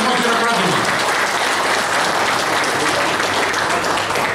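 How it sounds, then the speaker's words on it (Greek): Warm applause from the audience at a veterans' footballers' association event in Perama, a loud, dense, sustained clapping that fills the whole stretch, with some voices mixed in. "Ένα θερμό χειροκρότημα."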